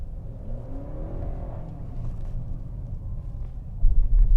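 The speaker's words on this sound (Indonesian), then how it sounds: "begitu kita kick down, mesin bensinnya akan langsung main dan itu seamless nih" A Honda CR-V Hybrid's petrol engine cuts in on kick-down, giving a steady low rumble and whir from inside the car that builds slightly, with a heavier thump near the end and no one speaking.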